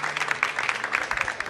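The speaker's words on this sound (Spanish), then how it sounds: "¡Fuerte el aplauso!" Studio audience applause for a proud mother on a Spanish-language TV variety show, a brief burst of moderate clapping with crowd noise that swells and dips unevenly.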